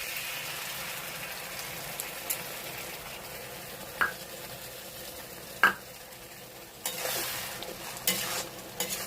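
Mustard paste hits hot oil and is stirred, giving a steady frying sizzle broken by a few sharp spoon knocks and a louder burst of spitting crackle near the end.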